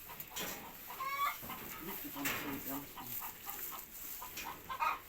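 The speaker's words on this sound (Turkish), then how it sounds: "Tavukların sesi neşe veriyor." Chickens cluck and squawk nearby in a farmyard, scattered calls rising and falling continuously, with a person talking at moments among them.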